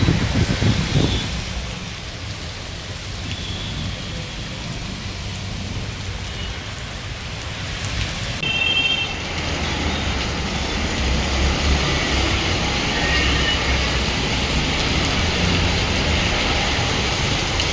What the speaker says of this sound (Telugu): హైదరాబాద్ లో పలుచోట్ల భారీ వర్షం కురుస్తోంది.